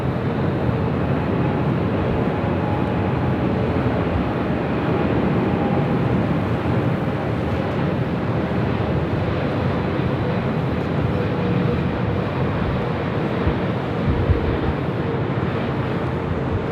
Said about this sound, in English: That's 777 fighting the wind.